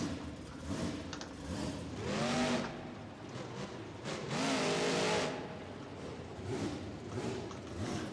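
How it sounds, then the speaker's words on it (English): A monster truck engine in BeamNG.drive revs up twice in long surging swells, loud and close, settling back to a steady idle hum between the bursts. "This one sounds good at idle, just not when you rev it."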